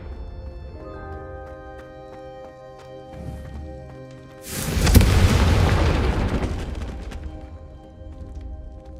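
Confringo spell exploding in Hogwarts Legacy: after a quiet stretch of tones and a soft thud, a sudden loud booming blast bursts out and rumbles away slowly over several seconds.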